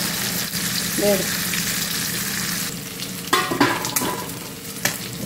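Sankara fish fried in hot oil, a continuous loud crackling sizzle with occasional sharper pops and clatter of a utensil, brief faint voice-like sounds in the background.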